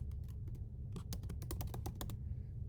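Keys clack on a computer keyboard in a quick irregular burst while a layer name is typed, close and crisp over a low steady room hum, with no talking.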